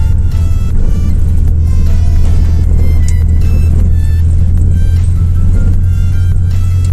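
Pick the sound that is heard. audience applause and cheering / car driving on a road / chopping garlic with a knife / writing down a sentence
car driving on a road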